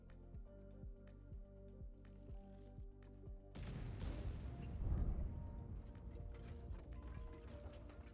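A Kranvagn tank's gun reloads in a video game on the Malinovka map: a steady train of rhythmic mechanical clicks and ratcheting, then a louder metallic clunk followed by a rumbling wash of noise.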